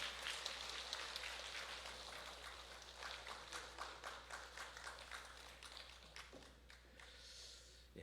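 A church congregation applauds during a Sunday worship service, a steady, fairly faint wash of many hands clapping through a large room that thins out toward the end.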